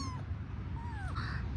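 A kitten gives two or three short, thin meows close by over a low background rumble.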